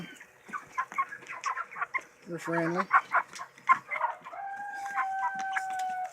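Several meat chickens cluck and chatter close by, with a brief crow-like call partway through, while someone talks over them.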